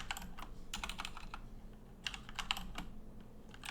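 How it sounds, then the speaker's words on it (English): Soft, irregular bursts of clicking from a computer keyboard as text is typed out, fairly quiet and close, over a faint low hum with no speech. "So let's just type it out."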